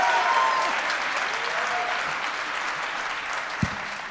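Sustained audience applause fills a candidate forum for a Democratic mayoral race on the Upper West Side, a dense steady clatter of many hands that slowly tapers, with a brief bump near the end.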